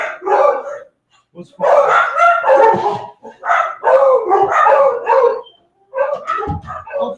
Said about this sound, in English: All three of my dogs say hi.